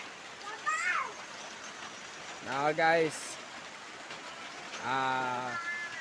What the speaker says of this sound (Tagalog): Ulan na sad taan ni.